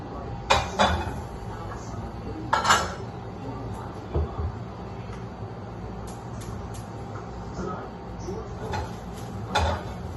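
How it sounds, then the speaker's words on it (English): A dirty cooking pot is washed, with a few scattered clanks and knocks of metal against the sink between long stretches of faint running background, quiet and close. "Just had to wash that pot, guys. It was a little dirty."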